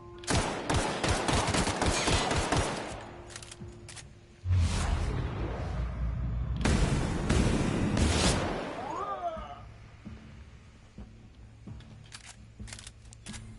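Rapid bursts of pistol gunfire ring out in the video game The Outer Worlds, with dense loud volleys in the first half, then scattered shots and a whooshing sound trailing off into quieter game noise.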